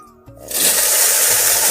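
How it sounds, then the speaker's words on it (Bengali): Water is poured into boiled lentils (dal) in a home kitchen, a brief clink followed by a loud, continuous rushing splash that fills the rest of the short moment. "জলটা দিয়ে ডালটাকে প্রথমে গুলে নিই ভালো করে"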